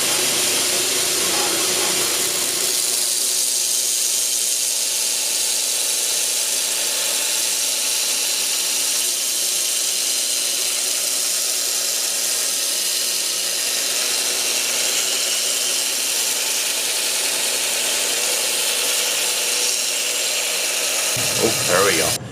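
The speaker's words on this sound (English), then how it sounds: "back to the grinder we go" Belt grinder running steadily at 60 grit against a knife blade made from a pickaxe, a loud, continuous abrasive whine and hiss that holds for about twenty seconds before cutting off.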